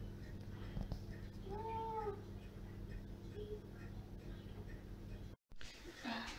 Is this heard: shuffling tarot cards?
no